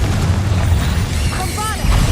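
Deep booming blasts from the Confringo fire-blast spell rumble through combat in Hogwarts Legacy. The heavy low explosions run continuously, with brief voiced game sounds rising midway through.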